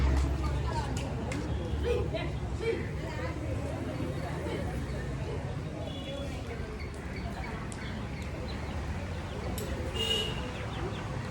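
Hens clucking in a busy farmyard, brief clucks scattered through the clip beneath near-constant talking and background noise.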